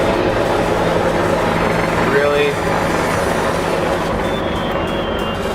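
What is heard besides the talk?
helicopters flying over neighborhood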